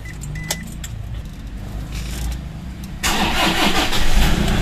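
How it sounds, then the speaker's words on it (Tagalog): Keys jangle briefly before a car engine cranks and catches, settling into a loud, steady mid-pitched idle close by. "Start ko na yung sasakyan."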